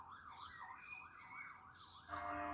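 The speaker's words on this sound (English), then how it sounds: "When the alarm goes, we hear it." A warbling electronic alarm or siren wails in repeated rising and falling sweeps, faint and distant in a quiet setting during a meditation session, then shifts to a harsher, louder tone near the end.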